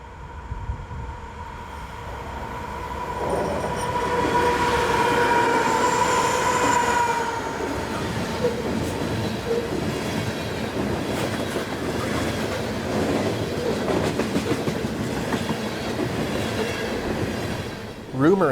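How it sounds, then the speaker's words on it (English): A CSX freight train, B657, rolls past Vintage Union Switch and Signal intermediate signals at Dungannon, Virginia, its loud steady rumble and clattering wheels holding close and continuous before easing off, with a faint squeal near the start. "We've jumped north just a few more miles to intercept train B657"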